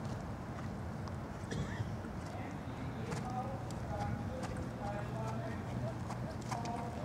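Horse hooves beat out a steady, rhythmic collected trot during a dressage test, soft and moderately distant over constant low background noise.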